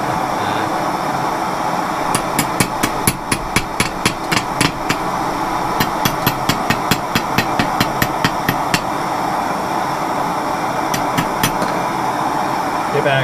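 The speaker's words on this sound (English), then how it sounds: "See if I can find something to tap some flux off with. How about a Craftsman 3/4 inch wrench?" Sharp metal taps from a Craftsman 3/4 inch wrench knocking flux off a fitting, fired in a MAPP gas kiln; several bursts of rapid close clicks over a steady roaring hiss.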